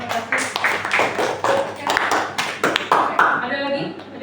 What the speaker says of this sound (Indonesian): untuk Gunawan dan Bagas, silakan boleh tepuk tangan